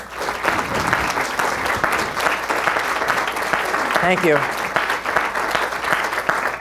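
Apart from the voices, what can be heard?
audience applause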